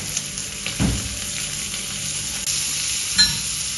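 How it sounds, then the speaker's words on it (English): Mushrooms fry in a pan, a steady close sizzle with a couple of brief stirring scrapes and bursts, loud and with no talk. "The mushroom is getting properly fried, grilled."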